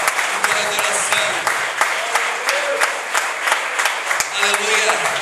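A worship congregation claps hands together in a steady, loud rhythm, many palms striking at once while voices sing or speak over the clapping.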